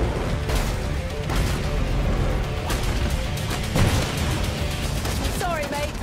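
Rapid gunfire rattles through a dense, loud action mix in an Uncharted: The Lost Legacy gameplay trailer, with sharp repeated bursts layered over music and effects.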